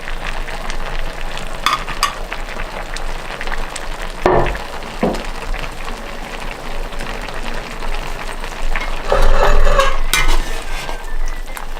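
Liver and vegetables sizzle in a hot pan while being stirred Uzbek style, a steady frying hiss broken by a few sharp scraping and clanking strokes of a utensil against the pan.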